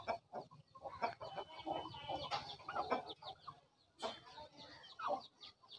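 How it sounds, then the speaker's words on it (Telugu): A hen and young rooster chicks cluck and peep in irregular bursts, fairly close but quiet, with soft chirps overlapping throughout. "ఇదొచ్చి పెట్ట, ఇదొచ్చి పుంజు పిల్ల."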